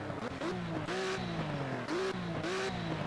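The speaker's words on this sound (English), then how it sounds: "We rev it up." A Ruf RT12 R sports car engine revs in the Project CARS racing game at the Nürburgring, rising and falling in pitch through several steady revs at moderate loudness with no talk.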